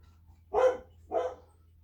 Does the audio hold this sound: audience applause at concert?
no